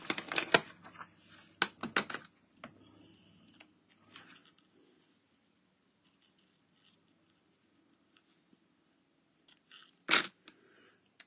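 Scissors snip ribbon trim straight off the spool in a few sharp close cuts with light rustling, then near quiet, then one last crisp snip.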